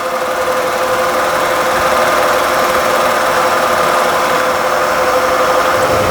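A milling machine runs steadily with a constant motor hum and faint whine as the cutter feeds slowly across the workpiece, loud and close, no voices.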